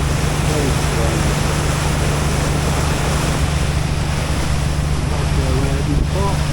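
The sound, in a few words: waves on the water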